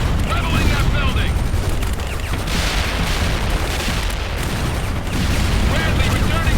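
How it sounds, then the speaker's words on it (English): Explosions level a building in the real-time strategy game World in Conflict, a dense continuous roar of booms and rumbling blasts with crackling debris, loud throughout, with game voice callouts over it. "Leveling that building!"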